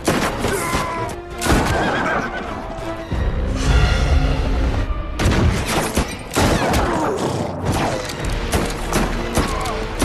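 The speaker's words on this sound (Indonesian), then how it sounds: "Di tengah baku tembak" Gunfire in a film shootout scene with armed robbers, bursts of shots and booms mixed with a horse's whinny, crashes and a loud dramatic soundtrack.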